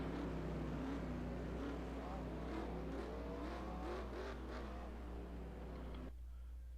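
Race car engines in NASCAR Racing 2003 (NR2003) at Wall Stadium, a steady layered drone of several cars circling a small track, with rising and falling engine tones under a constant low hum.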